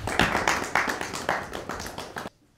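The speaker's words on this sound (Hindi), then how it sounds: "आपकी भरपूर तालियों में" Listeners at a Christmas special mushaira clap to welcome the poet Peter Sarosh to the stage: a brisk, fairly close round of clapping with a loose rhythmic pulse that stops abruptly after about two seconds, leaving near silence.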